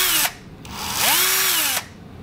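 Bosch cordless drill, close up, whirring in two short bursts: a brief run that stops, then a longer run whose pitch ramps up and falls back before the motor cuts out abruptly.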